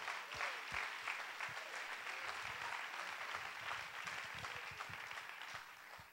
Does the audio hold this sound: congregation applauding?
yes